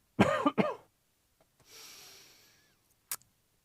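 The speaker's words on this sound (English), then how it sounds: "Hang on, I'm going to cough." Two sharp coughs close to the microphone, followed by a soft breathy exhale and a short click near the end, in otherwise quiet surroundings.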